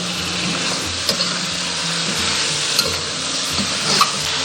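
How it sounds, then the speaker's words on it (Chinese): Soy sauce, dark soy, oyster sauce, soybean paste and sweet bean sauce are stir-fried over medium heat in an iron wok. A loud, close sizzle is broken by a few sharp spatula scrapes and knocks, with no talking. "然后我们开中火炒出酱香味"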